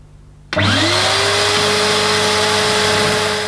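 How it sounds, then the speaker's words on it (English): A Numatic Henry Wash carpet cleaner starting up on a footstool, its motor kicking in abruptly and then holding a loud, steady whine with a strong hum and a rushing suction roar, close and sustained with no talk. "To start cleaning, simply squeeze the trigger and pull the nozzle slowly towards you to remove the soiled solution."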